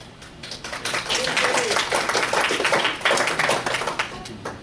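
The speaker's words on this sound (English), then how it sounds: "You're not supposed to get clapping during public comment" Scattered clapping from a small audience during public comment at a board meeting, a few seconds of uneven hand claps in a room, with some talk underneath.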